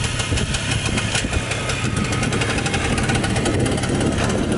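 A 1973 Harley Davidson Aermacchi TX125 two-stroke motorcycle engine running close by, a loud, steady buzzing rattle with a rapid, even pulse that holds throughout without pause.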